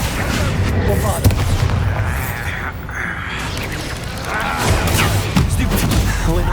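Spell blasts and booming explosions in Hogwarts Legacy on PS5, with repeated heavy impacts and crackling bursts over a constant rumbling battle din, and voices calling out during the fight.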